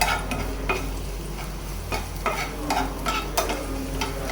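Spices sizzling in hot oil in a pan while tempering dal (lentils), a steady close frying hiss with intermittent scraping and stirring clicks.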